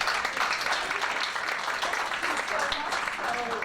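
Audience applause at a magic show, a dense, even roar of many hands clapping that carries on steadily throughout.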